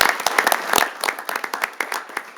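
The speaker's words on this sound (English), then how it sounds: "So I'd like to give a round of applause to Steve." Scattered applause fills a city council meeting chamber, sharp individual claps from a modest crowd at close range, thinning toward the end.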